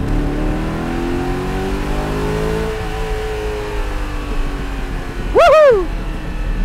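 A Lamborghini Jalpa V8 engine drones and rises in pitch, settles, then a sharp, loud rev blips up and falls away, close by.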